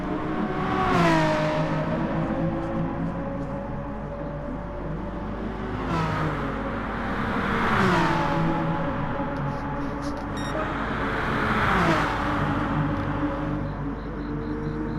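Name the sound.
racing cars, Hyundais and a BMW, at Fuji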